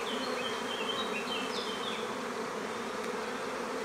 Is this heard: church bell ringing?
no